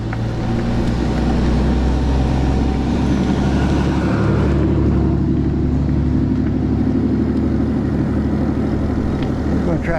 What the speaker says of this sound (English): Big old truck coming.